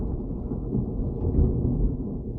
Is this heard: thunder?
yes